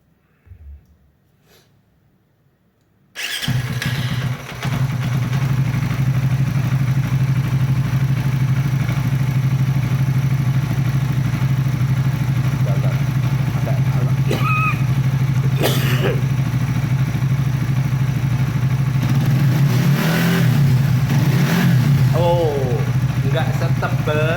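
A 250 cc motorcycle with a newly tested ignition coil cranks after a near-silent start and fires up, then settles into a loud, steady idle close by with small throttle blips, while people talk over it.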